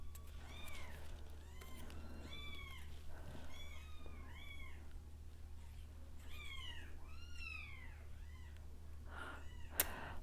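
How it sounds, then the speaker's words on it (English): Two-week-old kittens meow repeatedly, a series of thin, high, rising-and-falling cries that overlap at times, close but quiet over a low steady hum. "The kittens are 2 weeks old."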